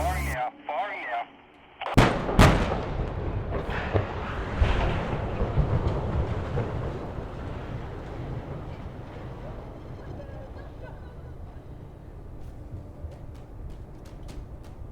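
Explosive charges bring down a coal terminal stacker reclaimer at Port Kembla: sharp, loud blasts crack out, followed by a long, fading rumble of the collapsing structure.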